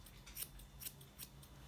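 Grooming scissors trim a Havanese dog's coat in quick, faint snips, about five crisp cuts spaced through the quiet moment.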